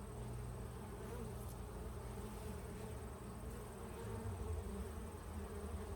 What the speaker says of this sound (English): Worker bees.